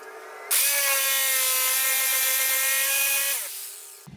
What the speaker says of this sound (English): I'm going to use a jigsaw and cut these nice and straight